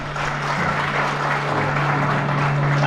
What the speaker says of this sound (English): let us give our PTA president another round of applause.